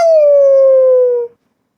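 A single drawn-out dog howl from the 1949 animated Legend of Sleepy Hollow, loud and clear. It holds a steady pitch that sags slightly before cutting off into silence.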